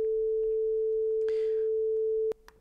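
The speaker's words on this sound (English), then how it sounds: "We can hear the sine wave" A steady pure sine test tone played through a Focusrite Scarlett audio interface output, holding one constant pitch alone for over two seconds before cutting off abruptly, with faint clicks around it.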